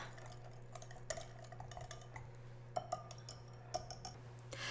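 Ketchup and Worcestershire sauce are stirred together in a bowl, with soft scraping and a few light clinks of the utensil against the dish over quiet room hum.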